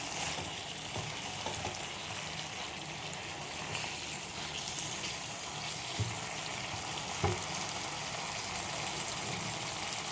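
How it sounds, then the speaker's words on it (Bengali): Tengra fish sizzling in a pan as a little water goes in, a steady loud frying hiss throughout with a few faint clicks and knocks, no talking. "এবার দিয়ে দেবো জল অল্প করে, যাতে মাছগুলো সেদ্ধ হয়ে যায়।"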